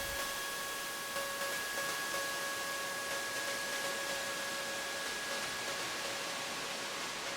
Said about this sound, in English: The white noise is building because those white noises are hitting along with the sound.